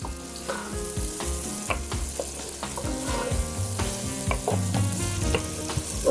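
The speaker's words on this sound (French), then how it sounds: "Je fais revenir quelques minutes." An Algerian hot starter sautéing in a pan, a steady close sizzle with repeated scrapes and knocks of a utensil stirring through the food.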